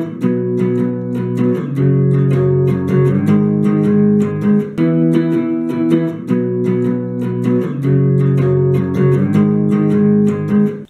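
Chord progression for the first verse and pre-chorus of a song, played on guitar at a steady rhythm, full and loud, sounding alone without talk.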